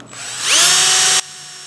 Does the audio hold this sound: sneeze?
no